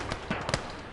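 Gunfire from the World War II Eastern Front game Call to Arms: Gates of Hell comes in a quick cluster of sharp cracks and thuds over a dense, noisy battlefield backdrop.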